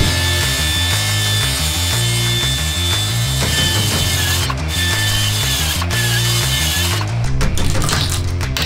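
A jigsaw cuts an angle in wood during a bathroom renovation, with a loud, continuous buzzing, rattling motor that runs close and alone for the whole stretch.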